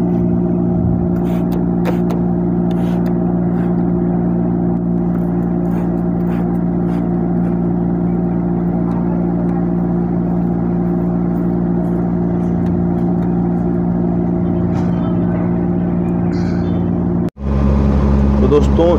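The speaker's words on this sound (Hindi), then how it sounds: "कार को मैंने स्टार्ट कर लिया है यहाँ पे" A car engine idles steadily with the air conditioning running, a loud, even hum holding for most of the time before cutting off abruptly near the end, with speech over it.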